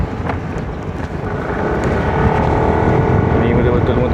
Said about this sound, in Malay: Ni betul-betul motor lenjan kan.